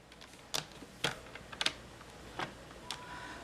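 Paper trimmer scoring cardstock to make a pop-up slider card, heard as about six sharp, separate scraping clicks spread unevenly over a few seconds, close and fairly quiet with no talking.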